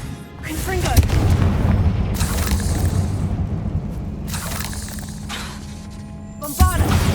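A fire-blast spell erupts in a Hogwarts Legacy battle with spiders, a heavy booming explosion that rolls on loudly for several seconds, with sharp cracking impacts at the start and near the end.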